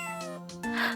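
A cat meows in the Phoenix Wright video game, a clear, close, tonal game sound effect standing alone with no talk over it.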